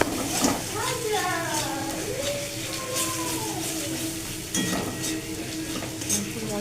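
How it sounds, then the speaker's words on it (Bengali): Masala sizzles in oil while being stirred in a pan with scraping spoon strokes, a steady close frying hiss under a person talking. "মশলাটা আমার কষা হয়ে গেছে"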